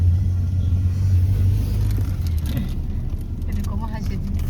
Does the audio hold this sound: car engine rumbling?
yes